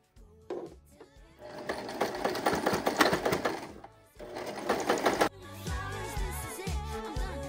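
A sewing machine stitches the elastic hem of baseball pants in close, fast rattling bursts, stopping briefly in the middle and then running more slowly at the end.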